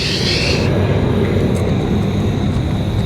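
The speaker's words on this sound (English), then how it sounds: "Bloody plane come over pretty loud, so we just thought we'd hold up" A low-flying airplane passes overhead outdoors, producing a loud, steady broadband roar that fills the whole clip without pause, with no voices over it.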